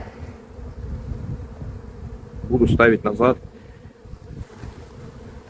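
Honey bees buzzing around hive frames being shaken, a low continuous drone with a brief louder burst as someone speaks close by.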